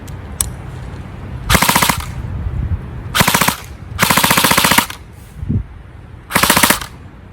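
Airsoft AK-style rifles, a Cyma AK74U and a Dytac MB47, firing full-auto for a rate-of-fire test: four loud, sustained bursts of rapid, evenly spaced shots, close up, with short quiet gaps between them and no talking.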